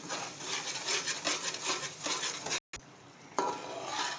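Ingredients for murgh cholay being mashed and fried in a pot give a steady scraping, rubbing sound of a utensil working against the pan, broken by a brief silence partway through.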